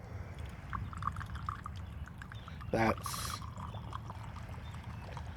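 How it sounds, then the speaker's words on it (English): Old Monk rum is poured in a short, controlled stream into a glass, a brief liquid burst over low background noise, with a person speaking briefly nearby. "a nice controlled pour."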